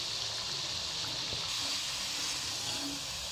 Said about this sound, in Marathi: पकोडे आपण मीडियम आचेवर तळून घेणार आहोत, जेणेकरून आतून सुद्धा पकोडे चांगले क्रिस्पी होतील